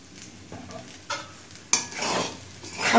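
A utensil scrapes and clinks against a pan while soy sauce is stirred into an egg and chicken pasta mixture, giving a few distinct metallic knocks and swishing stirs over a faint sizzle, close and fairly loud, with no speech.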